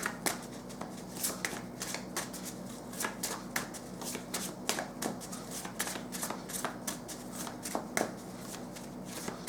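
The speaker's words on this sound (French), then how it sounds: "On va maintenant utiliser mes petites cartes manuscrites" Small handwritten cards are shuffled by hand again and again, giving a continuous, close run of papery riffles, flicks and slaps with no talking.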